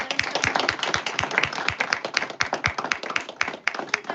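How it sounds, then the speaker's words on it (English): A small group claps for students after school, sharp distinct hand claps close by in a quick irregular patter, moderately loud and without voices. "I want to give them a round of applause because they stayed after school."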